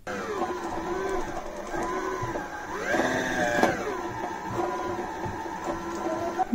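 A home sewing machine winds a bobbin with a close, steady mechanical whir whose pitch rises and falls in short surges, running without talk.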